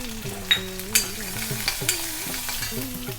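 Mustard seeds, urad dal, red chilli, cut ginger and curry leaves frying in hot oil for a Tamil tempering: a steady sizzle broken by a few sharp spatters and clinks of stirring, close and moderately loud.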